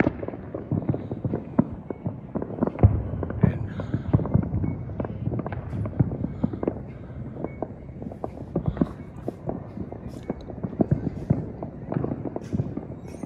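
New Year's Eve fireworks and firecrackers in Phoenix, Arizona, moments before midnight: scattered sharp pops and crackles, some near and some distant, go on steadily throughout with faint voices mixed in.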